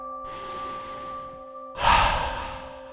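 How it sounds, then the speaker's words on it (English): A child-paced deep breath during a kids' meditation, with a soft drawn-in inhale followed by a louder, breathy exhale, close and alone against a faint steady hum. "Take a deep breath."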